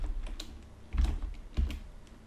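A terminal command typed on a computer keyboard during PHP server setup, a handful of distinct close keystrokes with a couple of heavier thumps, like the space bar or enter key, between lighter taps.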